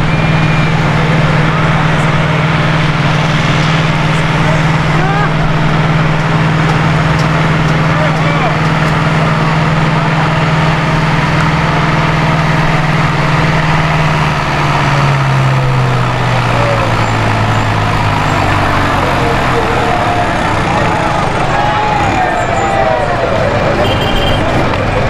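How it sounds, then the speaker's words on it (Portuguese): A Ford 6610 tractor with a four-cylinder turbo engine of 85 horsepower at a tractor pulling event in Holambra, its loud continuous drone holding steady then dropping in pitch, with crowd and commentary noise throughout. "Essa máquina tem motor Ford de 4 cilindros turbo, tem 85 cavalos de potência."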